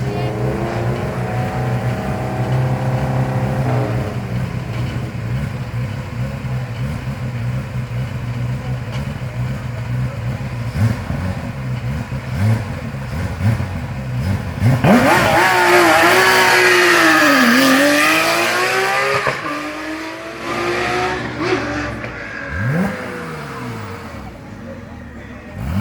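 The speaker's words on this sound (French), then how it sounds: "Jean-Michel Comi. De Charles Auto Compétition pour la Porsche 997 GT3 RS" Porsche 997 GT3 RS race car at the start of a hill climb: the engine idles loudly and rumbles, then revs hard and accelerates away with rising, falling pitch sweeps as it pulls off and fades up the course.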